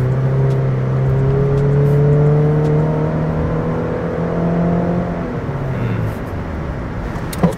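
A Subaru XV's engine and exhaust running nearby, a steady whirring drone with a gently rising and falling pitch that eases off near the end and ends in a brief knock.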